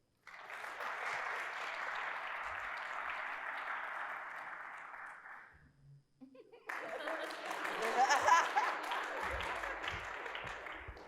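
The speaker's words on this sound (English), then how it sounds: "Y'all can still keep clapping" Audience applause for a speaker coming up to the podium at a community event on queer power, steady clapping for several seconds, a brief lull, then renewed louder clapping mixed with cheers and chatter.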